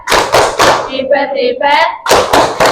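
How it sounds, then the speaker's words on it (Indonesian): A class doing a rhythmic 'tepuk hebat' cheer clap for a pupil named Kalista, loud close claps in short patterned bursts broken by children chanting together in the middle. "beri tepuk tangan untuk Kalista"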